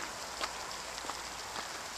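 Rain falls outdoors onto a camera, a dense hissing patter with a few distinct drop taps striking close to the lens, steady and fairly quiet.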